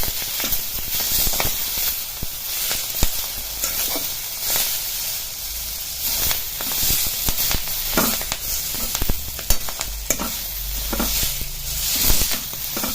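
Fenugreek leaves (methi) crackle and sizzle in hot tempering oil, a steady close-up frying hiss with scattered stirring clicks and scrapes throughout.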